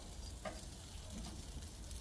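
Pancakes cooking outdoors in a pan over a burner, giving a steady, faint sizzle throughout with a couple of soft ticks.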